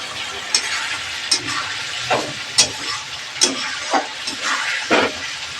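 Duck eggs and spices fry in a pan with a soft continuous sizzle, broken by sharp crackles and pops every half second or so, close by and alone.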